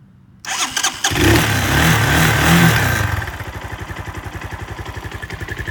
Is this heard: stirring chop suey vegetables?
no